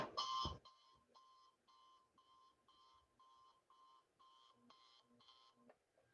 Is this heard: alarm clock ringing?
yes